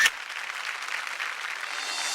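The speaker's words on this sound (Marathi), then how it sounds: "जोरदार टाळ्या" A studio audience at a women's television show claps steadily after a prize is announced, a dense, fairly bright patter of many hands that starts abruptly and continues evenly.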